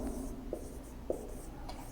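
Marker or chalk strokes writing numbers on a classroom board, a few soft short scratches and taps under a quiet room hum.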